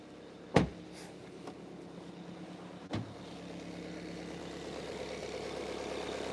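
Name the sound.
car engine idling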